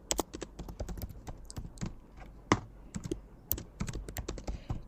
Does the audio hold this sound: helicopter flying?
no